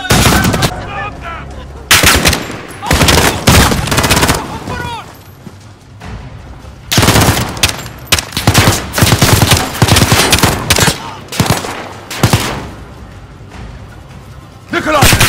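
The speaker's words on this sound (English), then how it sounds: "The gunshots, of course." Loud bursts of rapid gunfire in repeated volleys, with booming shots and short pauses between them, from the video game Call of Duty: Modern Warfare.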